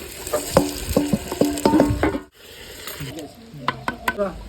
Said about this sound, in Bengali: এবার করে চিকেনটা ঢেলে দেবো পেঁয়াজটা হালকা ভাজা করে নিলাম